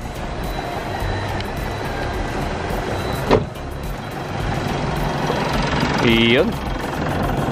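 A Mitsubishi Montero Sport SUV at its 70,000 km maintenance runs with a steady, close engine idle throughout. A sharp click lands midway and a short beeping chirp follows near the end, while someone speaks briefly over it.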